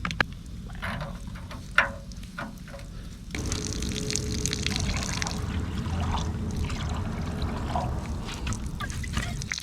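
Fresh cool water drains through a widened hole in a solar panel cooling setup at a campsite. It starts with a faint trickle, then becomes a steady, soft, continuous pouring after a few seconds.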